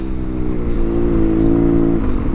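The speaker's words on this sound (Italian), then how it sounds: "Sentite che rumore veramente bello, ha un gas, ha un rumore di scarico esagerato." BMW R nineT Paris Dakar motorcycle climbing uphill, its loud exhaust holding a steady, rich low drone with a rising pitch as the throttle opens, then settling briefly before pulling again.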